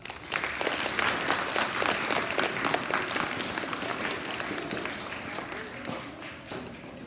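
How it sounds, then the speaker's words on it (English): A spelling bee audience breaks into sustained applause, loud at first and tapering slightly over several seconds. "let's give them a round of applause"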